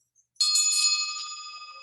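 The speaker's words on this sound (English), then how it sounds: "This is a simple bell." A small hand bell struck once, a bright ringing tone that sustains and slowly decays over a couple of seconds, clear and close with nothing else heard.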